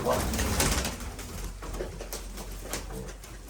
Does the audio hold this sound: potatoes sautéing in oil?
no